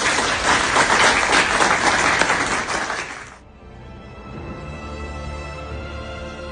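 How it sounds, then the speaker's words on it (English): An audience applauds a guest speaker after a talk about a life journey and a book, a loud dense burst of clapping that cuts off abruptly partway through, leaving a quieter background. "And again, round of applause."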